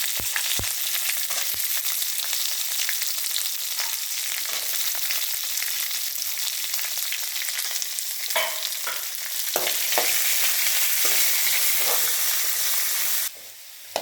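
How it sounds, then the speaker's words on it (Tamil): Garlic sautéing in oil for vathal kuzhambu makes a continuous close sizzle, broken by the repeated scrape and clatter of stirring, with no one speaking. "மிதமான தீவியில் வச்சு நல்லா பூண்டை நல்லா செவக்கிற வரைக்கும் வதக்கணும்"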